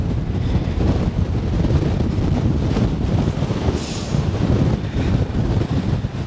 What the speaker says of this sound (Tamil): காற்று பார்த்திங்கன்னா பயங்கரமாக அடிக்குது,